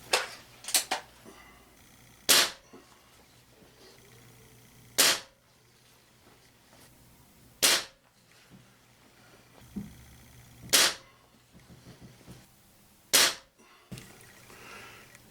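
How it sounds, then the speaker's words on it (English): A Crosman TR77 NPS short-barrel .177 pellet rifle fires RWS Hobby 7-grain lead pellets, five sharp loud cracks spaced a few seconds apart with small clicks and handling noise between them, no talking. "And now we're going to shoot 5 rounds of RWS Hobby 7 grain lead pellets."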